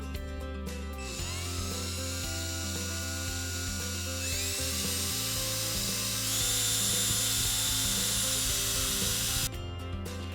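A Hercules cordless drill whirs continuously, its motor pitch shifting up and down as the speed changes, loud and close, then cutting off at the end.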